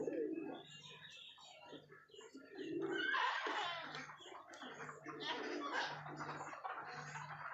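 Pigeons in a loft give soft, repeated low coos, close by and continuous, while a person talks over them.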